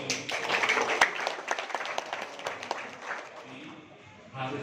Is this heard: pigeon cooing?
no